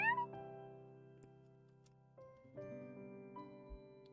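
A single short cat meow rises at the very start in the visual novel Fruit of Grisaia, then soft, sustained background music continues alone.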